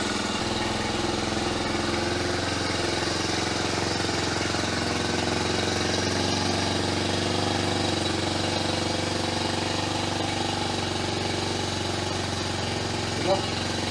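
A Kawasaki Super Sherpa 250 dual-sport motorcycle engine runs steadily at idle with a continuous, even rumble close by, no revving.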